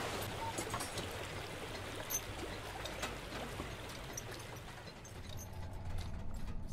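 Loud, steady rush of flowing water in the Labyrinthine horror game, a continuous broadband roar like a stream or waterfall that holds nearly constant throughout, with no talking over it.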